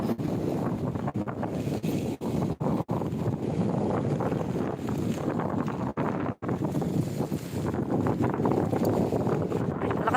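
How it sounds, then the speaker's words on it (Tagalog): Strong wind buffets the microphone in steady roaring gusts near the sea at Sablayan, with a few brief lulls. "Lakas ng hangin."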